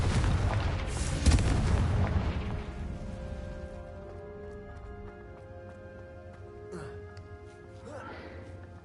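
A Confringo fire spell in Hogwarts Legacy bursts in a loud, booming blast that rumbles and fades over a couple of seconds, followed by quieter game effects.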